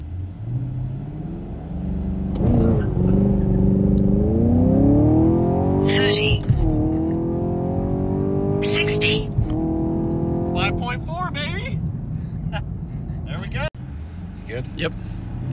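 A Chevy Camaro 2SS 1LE engine pulls hard through a 0-60 acceleration run, rising in pitch through the gears with sharp shift breaks, loud and close inside the cabin while occupants talk over it.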